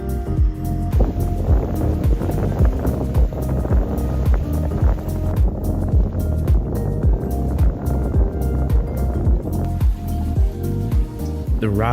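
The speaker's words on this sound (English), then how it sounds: "With the motor engaged and the sails fully up, we were jamming along at about 4 knots." Sailboat off Baja running under motor with sails fully raised in light wind: a steady engine drone with a repeating thump, mixed with water and wind rush, loud and continuous.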